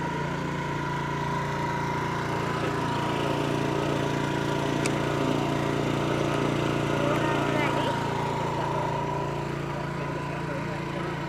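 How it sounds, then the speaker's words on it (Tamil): A motorbike engine idles steadily nearby, a constant low rumbling drone with a faint mechanical whine that stays even for the whole stretch. "பைக் ஒருக்கா ஸ்டார்ட் பண்ணி லைட்டாக ஒருக்கா என்ன நீங்கள் ஏறி இருங்க"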